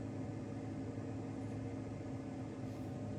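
The fan in a bee pollen dryer built from a refrigerator gives a steady, low mechanical hum without a break, with a faint airy hiss on top and no voices.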